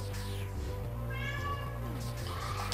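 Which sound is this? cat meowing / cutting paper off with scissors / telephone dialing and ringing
cat meowing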